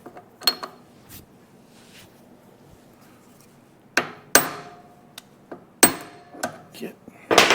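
Hammer blows on parts during a front suspension rebuild of a 1957 Chevrolet Bel Air restomod, with sharp metallic strikes at irregular intervals, loud and close, and a faint clunk between them.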